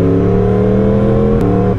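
Yamaha R1M crossplane motorcycle engine running loud and close, a steady harmonic drone that shifts pitch briefly near the end as the revs change.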